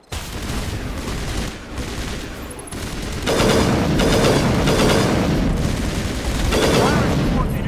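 Sustained gunfire in the video game Mass Effect Legendary Edition, dense overlapping automatic bursts and booms that swell louder midway and keep up without a break, with a voice briefly heard beneath the barrage.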